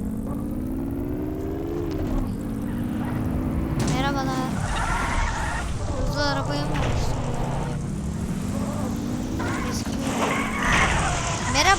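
Game car engine in Payback 2 droning and shifting pitch as the car drives, reverses and skids, with sharp tire squeals and rasps over it and a voice talking over the action.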